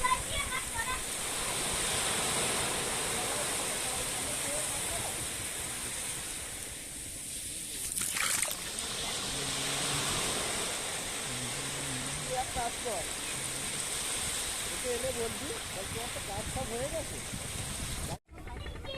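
Sea waves wash continuously onto the beach of Mousuni island, a steady broad roar of surf with faint voices carrying in the middle stretch.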